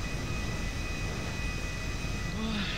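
Steady airplane engine drone from a GTA Online flight, a continuous broadband roar with a faint rising tone near the end, under quiet background voice chat.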